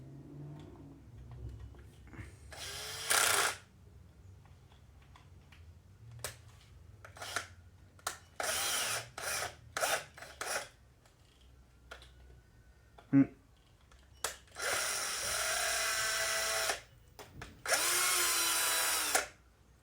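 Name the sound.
power tool tightening a part on an RC car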